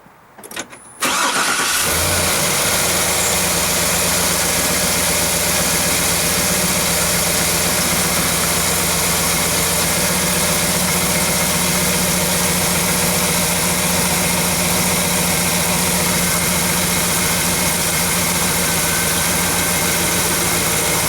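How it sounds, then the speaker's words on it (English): A 2007 GMC Yukon engine, freshly fitted with a new serpentine belt, catches after a brief crank and settles into a loud, steady, even idle that runs on unbroken with no talking. "we'll start the engine and make sure everything looks good"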